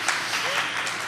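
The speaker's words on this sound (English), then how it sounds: "a round of applause for yourselves" Audience applause at the Miss World America final, a steady broadband wash of clapping from a crowd that holds evenly through the whole short stretch at moderate level.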